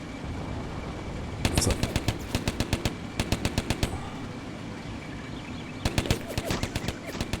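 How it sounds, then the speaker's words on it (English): Rapid bursts of automatic gunfire in a World War II combat video game, several rattling volleys separated by short pauses, loud and close over a low steady background. "I hear gunfire."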